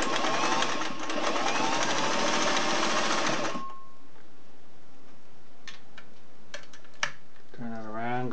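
A Singer 503A slant-needle zigzag sewing machine runs steadily for about three and a half seconds with a fast, even mechanical chatter, then stops, leaving quiet handling clicks and a brief voice at the end.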